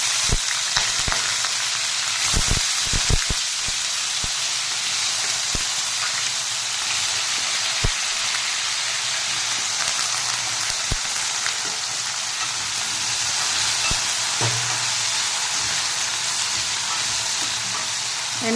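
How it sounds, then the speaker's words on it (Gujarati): Diced potatoes roast in a pan with cumin, asafoetida and whole spices over high heat, a steady close sizzle running throughout with sharp clicks and scrapes of a spoon stirring against the metal at irregular moments. "એને ફૂલ તાપે થોડાક શેકી લેવાના પહેલાં. અને આવું હલાવતા રહેવાનું એટલે નીચે ચોટે ના."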